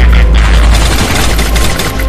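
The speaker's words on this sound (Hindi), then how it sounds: "और फिर बाबा रेड क्रिमिनल और बनी बंडल के ऊपर गोलियों की बरसात कर देते हैं" Loud, continuous gunfire from the Free Fire video game, a dense barrage of overlapping rapid shots and booms that fills the whole moment without pause.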